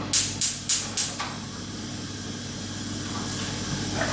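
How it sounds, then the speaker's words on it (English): Hot oil in a pan on a hob, heating for Yorkshire puddings, spits in four sharp hissing bursts in quick succession, then settles into a quieter steady sizzle with a faint crackle near the end. "This really gets the oil spitting hot"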